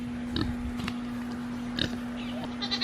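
A pig eats tomatoes on a farm, with soft grunts and wet chewing close by over a steady low hum, a few brief sharper snorts scattered through.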